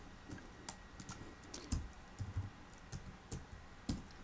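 Quiet, irregular clicks of typing on a computer keyboard, several separate keystrokes spread across a few seconds with short pauses between them.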